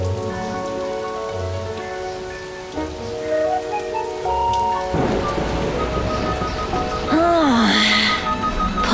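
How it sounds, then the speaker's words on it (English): Heavy cartoon rain pours steadily throughout a children's animated car scene, with a continuous hiss of drops on the ground under bright music tones and a rising cartoon sound near the end. "It's a very rainy day today."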